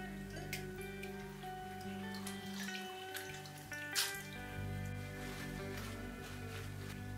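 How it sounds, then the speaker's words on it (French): Mushrooms being drained for shrimp nems, with water dripping and trickling in irregular close splashes, one sharper drop standing out midway, and no talking. "J'égoutte les champignons."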